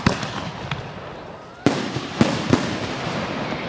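Loud fireworks burst at a fireworks show: a few sharp, booming cracks close by, with an especially hard bang near the middle and two more soon after, over a crackling background.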